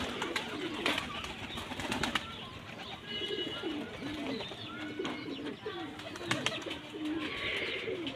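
A pair of domestic pigeons coos in low, throaty bursts, repeated every second or two against a quiet background with scattered clicks and faint rustling.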